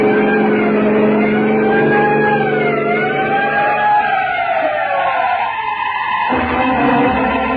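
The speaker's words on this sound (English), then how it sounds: "Sound your siren." An emergency vehicle siren wails with a rising and falling tone over a rumbling truck engine in an old radio drama. The siren is loud and continuous, then cuts off abruptly near the end.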